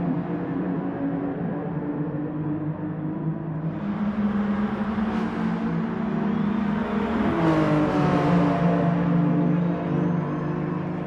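Racing car engines in Gran Turismo Sport at the Dragon Trail Seaside circuit. Several cars run close together with a steady droning roar that swells partway through as they rev and pass, with no talk over it.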